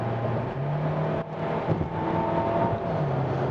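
A Hyundai Sonata DN8's engine revs up under throttle, a steady whining drone climbing in pitch with a brief dip midway, heard close from inside the cabin with no talk.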